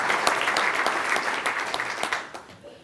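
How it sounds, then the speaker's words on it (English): A conference audience gives a round of applause, a full, even burst of clapping that fades away over the last second. "Give them a big round of applause."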